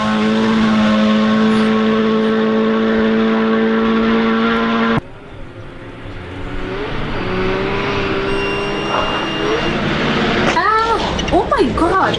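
Rally car engine at Rally Finland, harmonic engine drone holding steady before a sharp cut, then engines rising and revving again with pitch sweeps, mixed with excited talking.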